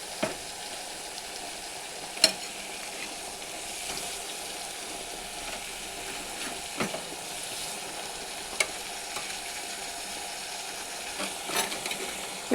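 Tomato and tender brinjal pieces frying together in a pan for curry, a soft steady sizzle at low level with occasional faint clicks and stirring taps, no voices.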